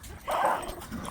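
A small pet dog lets out a single close, high whimpering yip toward neighbouring dogs, brief and strained, with quiet room sound around it.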